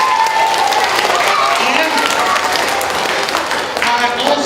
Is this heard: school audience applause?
yes